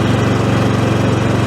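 The engine of a HECHT 5292 garden tractor runs loud and steady at high revs, a dense continuous drone with no pauses or voices.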